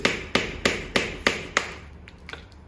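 A hammer drives a chisel to chip away a positive plaster cast, giving six sharp, evenly spaced strikes close by, then a few fainter taps as the work trails off.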